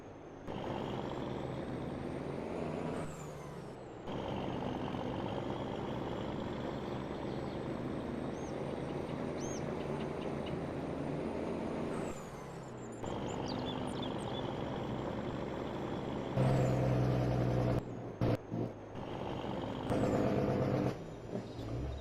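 A truck driving in Farming Simulator 22 on an Australian station, producing a steady engine drone with harmonic whine, interrupted by a few brief cuts and louder bursts toward the end.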